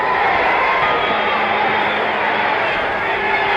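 A boxing crowd at the Muhammad Ali versus Ron Lyle fight roars and cheers in a dense, continuous wall of noise from a large arena audience.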